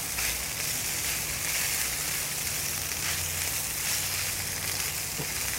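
Garlic frying in a pan with a touch of dried chili, giving a steady, close hiss of sizzling oil that holds at an even level throughout, with no voices.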